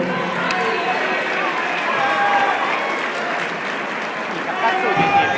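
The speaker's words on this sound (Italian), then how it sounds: "Un applauso per Daniele e per Vincenzo." A crowd at a Sardinian kickboxing championship applauds two light-contact fighters, giving steady, dense clapping close by, with voices mixed in.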